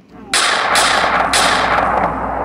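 Gunfire in a cartoon-style video game, a sudden loud burst of harsh, noisy blasts that starts abruptly and carries on with repeated sharp cracks.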